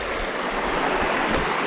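A river rushes through natural rock pools formed by small stone dams, a steady broadband gurgle and splash of flowing water, close and continuous with no talk.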